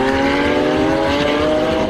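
A 2012 Lamborghini Aventador engine roars loudly as it accelerates on the Vallelunga circuit, its pitch climbing steadily through a short, continuous pull.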